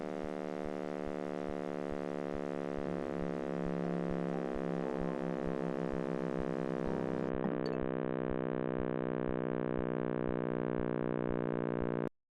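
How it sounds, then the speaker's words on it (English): A steady synthetic hum of layered tones, a sonification of the cosmic microwave background, drones on for several seconds, with a faint rising tone buried in it, before cutting off abruptly. "This is the sound of the Big Bang."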